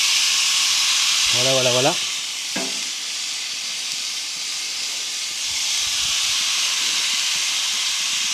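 Meat sizzles and hisses steadily on a barbecue, a broad constant frying hiss that runs the whole time, with someone speaking briefly over it near the start.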